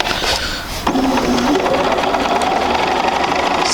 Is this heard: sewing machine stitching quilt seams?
yes